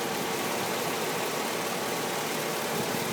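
A 2006 Chevrolet Silverado 4x4 pickup engine idles steadily and evenly, close and fairly loud, a constant running hum with no voices.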